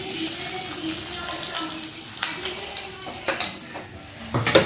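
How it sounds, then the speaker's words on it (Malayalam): Thinly sliced shallots frying in hot coconut oil for a Kerala-style prawn curry: a steady, close crackle and sizzle with occasional stirring scrapes and clinks. "ഒരു 4 ചെറുള്ളി ഞാൻ ചെറുതാക്കി കനം കുറച്ച് അരിഞ്ഞതാണ്. അത് നമുക്കിതിലിട്ട് മൂപ്പിച്ചെടുക്കാം."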